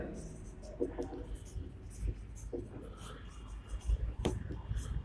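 A pen scratches across paper during a general maths lesson on rectangle and square perimeters, with short, soft writing strokes under a teacher's steady talk.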